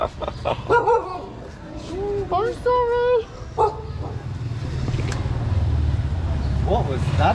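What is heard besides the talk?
dogs barking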